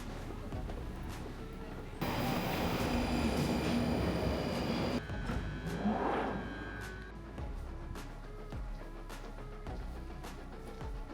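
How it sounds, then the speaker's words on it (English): A commuter train heading into London Euston rumbles and roars steadily, with a louder burst of rushing noise and wheel and track sounds partway through, heard from inside the carriage. "I then jump on the train, which takes around half hour to get into London Euston."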